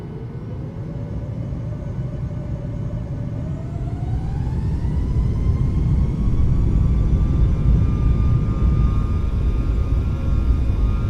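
Boeing 737 MAX jet engines spool up steadily, a loud low roar with a rising whine that climbs in pitch and then holds level as the thrust builds.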